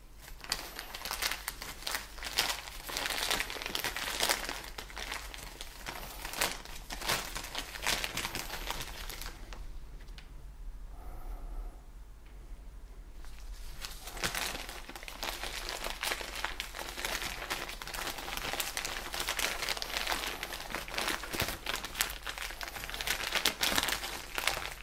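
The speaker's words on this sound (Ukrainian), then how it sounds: "Наповнюю пакет." Sphagnum moss is packed into a plastic bag while air-layering a Ficus benjamina, giving a steady close crinkling and rustling that pauses briefly in the middle before resuming.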